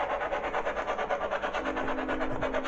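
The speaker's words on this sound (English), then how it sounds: "There's a train again." A train passes at a distance, a steady low rumble and rolling drone sustained throughout, heard alone in a quiet room of an old house.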